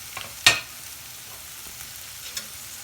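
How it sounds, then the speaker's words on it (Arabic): Onions fry in a pan as tomatoes are tipped in. A sharp splash-like hit is followed by a low, faint sizzle that carries on quietly with no talking. "بعد ما البصل ديالنا نزل كنزيد له طماط"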